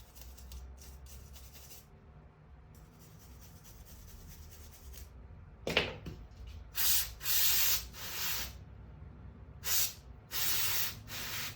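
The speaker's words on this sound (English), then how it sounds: "I'm going to brush off first actually." A brush scrubs a Dellorto carburettor part from a Ducati Brio 48 in a rebuild, starting as faint rubbing and rising into several short, loud bursts of scraping near the end, with no talking.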